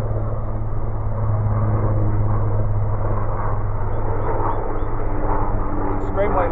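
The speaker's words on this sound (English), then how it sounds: "Extremely low flying helicopter." An extremely low-flying helicopter passes overhead with a continuous, loud, muffled rotor and engine rumble that stays steady throughout.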